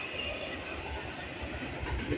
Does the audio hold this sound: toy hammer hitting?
no